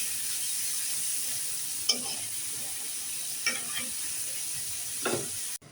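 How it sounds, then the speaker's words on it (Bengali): Winter vegetables, potato and radish, fry in a pan while being stirred, a steady sizzle broken by three distinct scraping stirs of the spatula, fairly close and alone with no talk. "পানি দিব না, একটু ভেজে নিব,"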